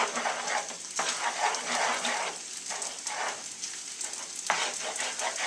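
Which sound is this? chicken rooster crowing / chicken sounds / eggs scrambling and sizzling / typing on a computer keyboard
eggs scrambling and sizzling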